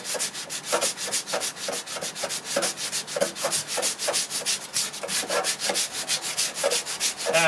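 Steady back-and-forth rubbing of sandpaper over a primed MDF door, a close, continuous scratchy rasp with regular strokes throughout and no talking.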